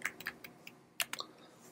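Soft, quick computer keyboard clicks tap out in an irregular rhythm, close and quiet, with short pauses between keystrokes, typing the ipconfig command.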